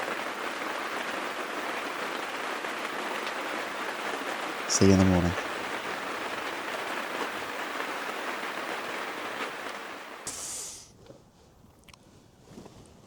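Steady rain patters on a tent at night during a camping trip, a dense, even wash close by that keeps up for about ten seconds before easing, with a brief spoken remark over it.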